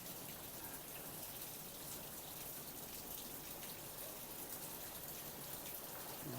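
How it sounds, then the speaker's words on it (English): Steady rain and falling water fill the air with an even, hissing wash, faint and unbroken, with no voices. "I got rain going and waterfalls on"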